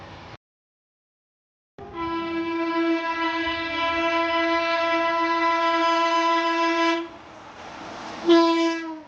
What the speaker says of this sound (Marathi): दुपारच्या 3:30 वाजता आमची ट्रेन ठरल्याप्रमाणे वेळेवर निघलेली आहे